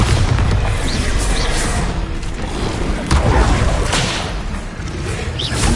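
Bombarda explosion spell in a Harry Potter video game, a string of booming blasts and whooshing swishes layered with rumbling thuds, loud and continuous across several seconds.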